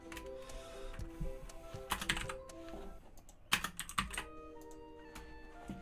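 Bursts of clattery typing on a computer keyboard, close and fairly loud, in uneven clusters of keystrokes with short pauses between them and no talking.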